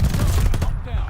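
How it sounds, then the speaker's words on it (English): Rapid-fire MP-40 submachine gun in Call of Duty: Vanguard, a brief, loud, dense burst of shots that is up close and blends with other game sounds and a voice. "That's a problem with the rapid fire MP-40."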